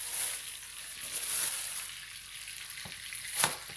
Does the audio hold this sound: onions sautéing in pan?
yes